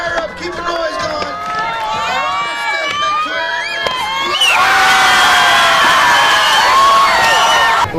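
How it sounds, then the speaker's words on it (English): A crowd at a skateboarding event cheers and whoops, first under loud overlapping talk, then swelling into a full, sustained roar that dominates the last few seconds. "Come on, crowd, fire up. Keep the noise going."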